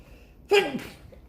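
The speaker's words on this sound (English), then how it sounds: "Your boy just sneezed." A single sharp, close sneeze bursts out suddenly, followed by a brief breathy tail, against an otherwise quiet background.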